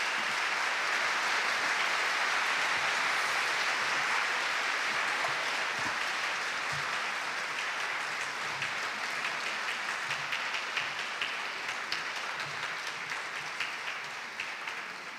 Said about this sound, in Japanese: 会場の皆様、もう一度大きな拍手をお願いいたします。